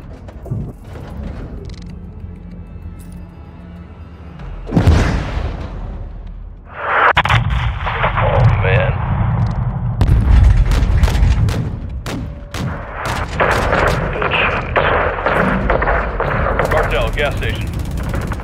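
Gunfire and explosions from the Modern Warfare 2 campaign, with heavy blasts, rumbling and rapid bursts of small-arms fire, loud and continuous, and radio voices speaking over the battle.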